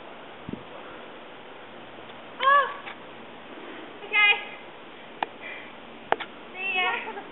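A cat meows three times, short drawn-out cries spaced a couple of seconds apart, close by over a steady background hiss with a few small clicks.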